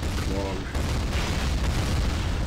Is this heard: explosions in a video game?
yes